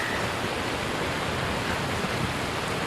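Heavy rain pours steadily in Skyrim, a dense, even hiss of falling water that stays loud and unbroken throughout, with no voices.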